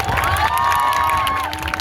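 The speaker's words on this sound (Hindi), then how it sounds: "इनके लिए भी जोरदार तालियां होनी चाहिए।" A loud crowd at a celebration in the Sindh Governor House cheers and shouts enthusiastically, voices rising together in a sustained burst with some clapping mixed in.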